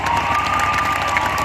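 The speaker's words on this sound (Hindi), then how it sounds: "ताली बजा के स्वागत करो" A crowd at a public ceremony claps and cheers loudly to welcome education minister Inder Singh Parmar on stage, with dense, continuous applause.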